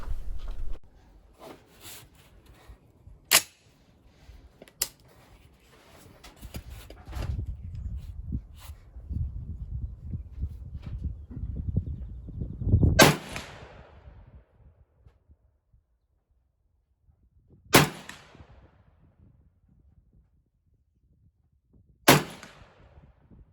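300 Blackout rifle firing Hornady 110-grain V-Max handloads at steel targets outdoors: several sharp, widely spaced cracks, each followed by a short ring and echo, with quieter rustling and handling noise in between.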